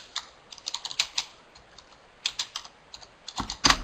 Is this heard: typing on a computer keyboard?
yes